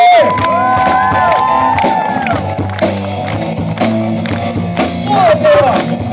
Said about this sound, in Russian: Встречайте ваши аплодисменты!